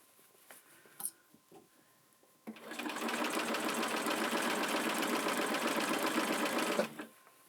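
A sewing machine stitches a bag appliqué, starting after a few soft handling sounds and running loud and steady for about four seconds before stopping abruptly.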